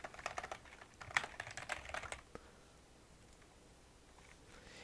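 Quick, dense keystrokes on a computer keyboard while a Discord server is being set up, close and fairly soft, running for about two seconds before stopping into quiet room tone.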